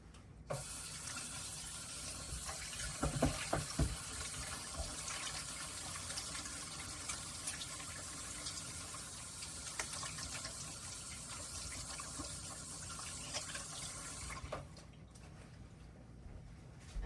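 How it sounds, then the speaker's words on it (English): Hands being washed under a running kitchen tap while baking, a steady rush of water splashing into a sink for most of the time, with small bursts of splashing and then the flow shutting off near the end. "I'm going to go wash my hands"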